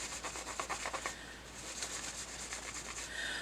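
Rub n Buff gold leaf is rubbed onto an etched surface by hand, giving soft, rhythmic scrubbing strokes, close and fairly quiet, with no talking.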